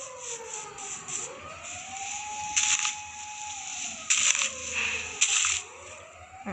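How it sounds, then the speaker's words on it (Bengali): Ambulance siren wailing nearby, a rising and falling wail with several bright bursts over steady background hum. "আরে কানে লাগতেছে এটা অ্যাম্বুলেন্সের, মনে হচ্ছে কোনো রোগী টোগী আছে"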